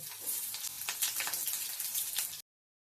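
Beetroot and carrot fry in a pan with cardamom, cinnamon and clove, giving a close, bright crackling sizzle with small popping bursts that stops abruptly.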